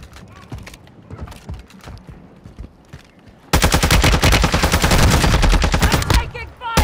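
Rapid automatic gunfire from a Call of Duty: Modern Warfare II match, starting as scattered shots under game sounds and voices, then erupting into a loud, sustained burst of continuous firing for several seconds.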